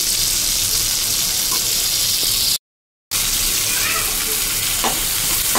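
Chicken curry masala sizzling steadily in a pan of hot oil with coriander and mint, a continuous close frying hiss broken by a short silent gap, with faint stirring clinks near the end.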